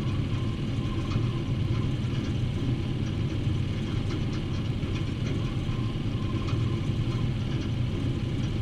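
A de Havilland Tiger Moth biplane engine idles during startup in the IL-2 Cliffs of Dover flight simulator, a steady, continuous low rumble holding at an even level throughout with no talking.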